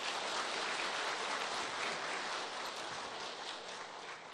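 Sustained audience applause at an Indonesian party leadership inauguration ceremony in 2019, a dense, even wash of many hands clapping that fades slightly toward the end.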